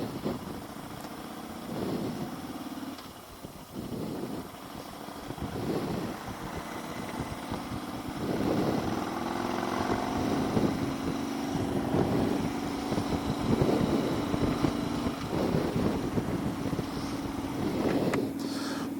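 A small motorcycle rides along at sunset, its engine droning steadily with rising and falling revs under rushing wind, no talking.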